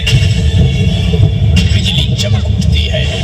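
A dramatized thunder effect rolls as a loud, sustained low rumble and roar, steady throughout, marking a storm in the retelling of Hiranyakashipu striking the palace pillar before Narasimha appears.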